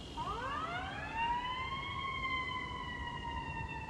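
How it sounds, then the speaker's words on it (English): A wailing emergency siren, like an ambulance's, sweeps up in pitch and then holds a steady tone as it passes at moderate distance over faint traffic noise. "Ambulances and things like that."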